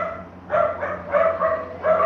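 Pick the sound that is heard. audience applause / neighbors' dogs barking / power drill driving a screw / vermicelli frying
neighbors' dogs barking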